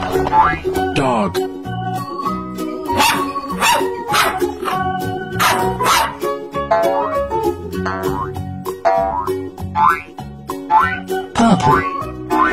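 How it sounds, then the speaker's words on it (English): Repeated sharp dog barks and yips come in bursts over a bouncy musical backing, loud and close. "Dog."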